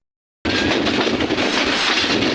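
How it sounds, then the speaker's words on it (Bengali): Kurigram Express passenger train running fast between Joypurhat and Dhaka, with a loud steady rush of wheels and rail noise starting abruptly after a brief silence and continuing without a break. "কত জোরে চলতেছে এই ট্রেনটি"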